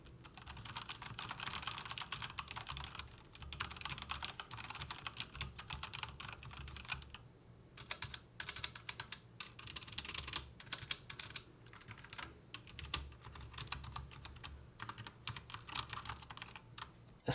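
Continuous fast typing on a Rapoo V700 RGB gaming keyboard fitted with Kailh black mechanical switches, with dense clacking keystrokes and brief pauses, close and fairly quiet, with no voices.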